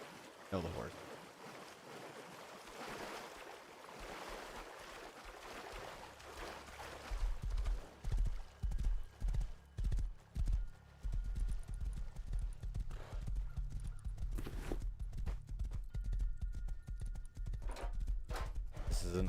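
Horse hooves clip-clopping in the video game Rust, a run of rhythmic hoof beats partway through with splashing water around them, while someone talks at times.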